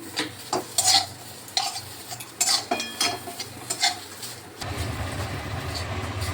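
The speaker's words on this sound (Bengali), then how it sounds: "একদম লো ফ্লেমেই করতে হবে আর নাড়তে থাকতে হবে" Softened dates and raisins for ladoo are stirred in a pan over low flame, with a series of rhythmic scraping strokes of a utensil against the pan, followed by a steadier low sizzle.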